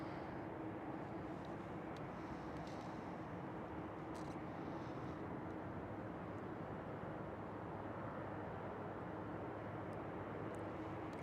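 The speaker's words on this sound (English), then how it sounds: "next one up looks like a KLM again" A KLM Boeing 737 airliner at Schiphol Airport gives a steady, broad engine roar and rumble that holds at an even level throughout, distant and continuous with no voices.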